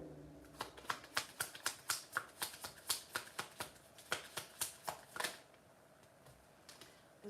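Oracle cards being shuffled by hand, a steady run of crisp riffling flicks for about five seconds, then quieter handling with no talk.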